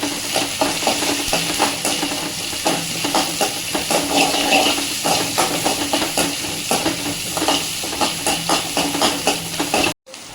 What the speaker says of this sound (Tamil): இஞ்சி பூண்டு, ஒரு பல் பூண்டு, கொஞ்சமாக இஞ்சி, அதையும் தட்டி போட்டுக்கலாங்க. எண்ணெயில் வதக்கிக்கலாம்